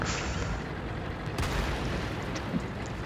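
Tank cannon fire in the World of Tanks video game, with a T29 and other tanks shooting in battle. A sharp boom cuts through a dense rumbling mix of distant gunfire, with smaller impacts afterward.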